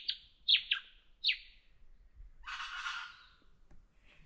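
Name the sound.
birds chirping at mountain campsite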